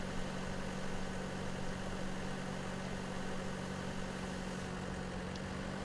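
A 127-horsepower tractor engine idles steadily in Farming Simulator 17, a continuous mid-to-low rumble with a constant hum and no breaks, holding the same loudness throughout.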